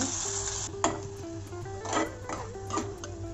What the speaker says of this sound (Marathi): आता ह्यात ही जी चटणी वाटलेली आहे ती छान परतून घेऊ।